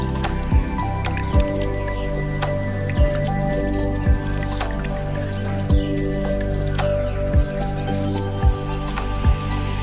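Juice from a round lemon dripping into whipped gram flour, a steady series of close, regular wet drips over a low constant hum, without talk.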